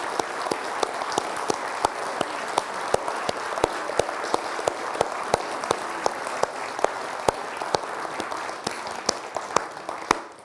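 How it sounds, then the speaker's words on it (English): Sustained applause from an audience at a church praise night in Carloway, honouring the musicians and singers, steady and dense with sharp individual claps standing out throughout, fading at the very end. "I'm going to ask you to give a big round of applause to all our musicians and singers"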